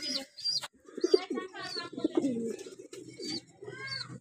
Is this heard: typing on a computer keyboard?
no